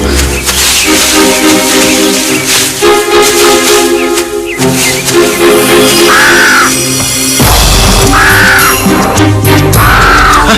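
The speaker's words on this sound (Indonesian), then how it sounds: "Gagak raksasa." A giant crow in an animated story caws several times in drawn-out, rising cries, layered over busy, loud background music and effects.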